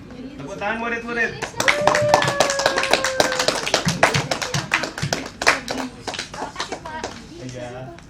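A class of students claps in a burst of quick, overlapping hand claps that build and then thin out, with a teacher's voice before and after and a short tone sounding partway through.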